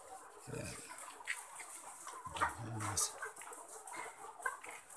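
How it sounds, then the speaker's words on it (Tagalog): Ready-to-lay chickens give soft, scattered clucks and low murmurs, fairly quiet and intermittent, with faint voices in the background. "pasilip sa bagong dating na RTL or ready to lay chicken"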